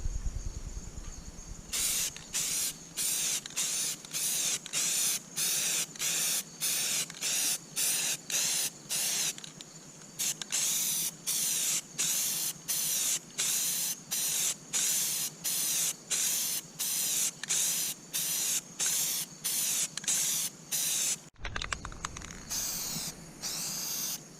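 A shaken aerosol can of bonding primer sprays onto the galvanized steel of a school bus in a long series of close, loud hissing bursts, each a second or so long with short gaps between.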